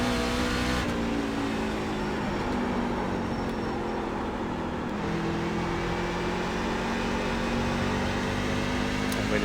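A NASCAR truck engine droning steadily at Lucas Oil Speedway in a racing video game, its harmonic pitch sliding slightly as throttle is eased and reapplied, loud and continuous throughout with no talking.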